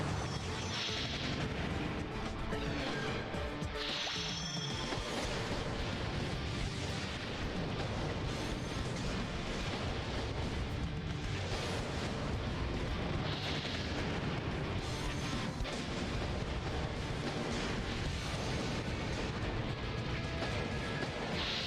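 Bomb explosions from the Custom Robo video game boom continuously, dense overlapping blasts and rumbles forming a loud, unbroken wall of noise.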